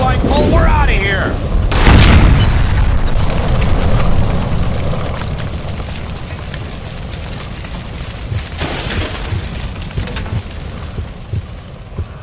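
In the L.A. Noire video game a shot gas line at a stove explodes with a loud deep boom, followed by a long rumbling roar that fades into debris crackle, with shouting voices.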